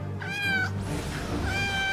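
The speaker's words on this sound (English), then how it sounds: "Doesn't it sound like the cutest little kitten?" A kitten meows twice, high and clear, in two drawn-out cries about a second apart against a low background hum, no talking.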